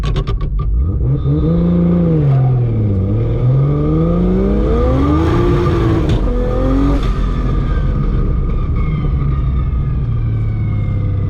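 A turbocharged Barra-engined Ford GT350 with a PPG sequential gearbox revs hard and close, its engine note sweeping up and down in pitch as it bounces against the rev limiter.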